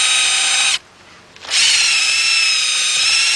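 A power tool cleans out a Volkswagen Beetle valve guide, a loud, steady high-pitched whir that cuts off briefly for under a second, then spins back up and runs on continuously.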